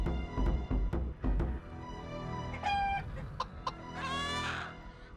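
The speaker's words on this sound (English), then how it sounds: "Got some chickens." Chickens in the video game Serious Sam II cluck in a rapid run of sharp, loud calls, followed by a few drawn-out squawks and a rising crow-like cry near the end.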